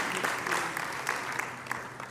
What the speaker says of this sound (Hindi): आप तालियों से स्वागत में सहायता कर सकते हैं।